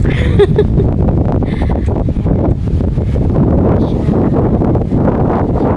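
Cold wind blows steadily through pine trees at a hilltop picnic grove in Tagaytay City, buffeting the microphone with a constant loud rumble and rustle.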